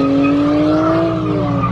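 A car on air suspension spins donuts and burnouts, its revving engine mixed with a loud continuous tire squeal that rises and bends in pitch across the short burst, close and with no talking.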